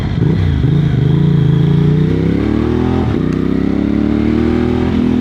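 A Moto Morini X-Cape 1200 motorcycle engine roars loudly and continuously nearby, revving up and down, with a sharp crackle of backfire partway through.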